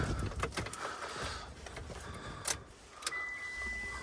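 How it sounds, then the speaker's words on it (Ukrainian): A car's ignition switched on after repair work: faint, quiet clicks and a brief knock, followed by a thin steady electronic tone from the dashboard in a hushed interior. "Вмикаємо запалювання."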